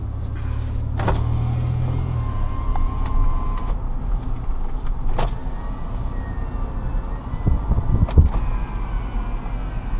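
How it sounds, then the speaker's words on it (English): Power windows on a 2002 Toyota Tacoma 4x4 run up and down, the motor whirring close by in several steady strokes, with the occasional thunk as a window seats, inside a quiet cab. "Both of your power windows work with no issues."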